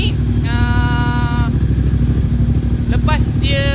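A Moto Morini X-Cape 1200 motorcycle engine idles steadily while warming up, with a low, pulsing rumble, close and continuous, while a person talks over it in bursts.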